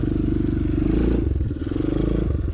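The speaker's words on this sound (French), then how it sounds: "Un wheeling sans embrayage." A motorcycle with its engine chugging loud and close rumbles through a wheelie attempt without the clutch, the throttle rising and falling unevenly, with clattering mechanical noise.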